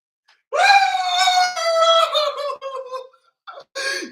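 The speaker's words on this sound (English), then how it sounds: "I heard a lot of screams." An audience screams in long, high, sustained cries, with a few short yelps and a final burst after a brief gap.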